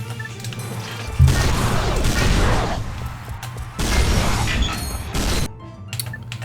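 Gunfire from a weapon in a video game comes in two loud bursts of crashing, rattling shots separated by a short lull, with mechanical clatter around them.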